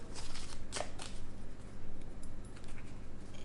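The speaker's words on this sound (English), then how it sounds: "The cards are very small, they're shuffling very easily" A Rana George Lenormand deck of very small cards is shuffled by hand, a run of close, soft riffling bursts repeating unevenly over a low steady background hum.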